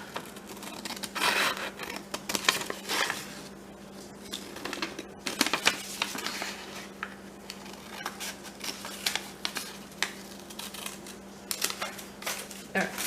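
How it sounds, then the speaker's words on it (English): Scissors snip repeatedly through paper while cutting out a picture, a run of short crisp cuts with paper rustling and a steady low hum underneath. "I'm going to cut out this picture."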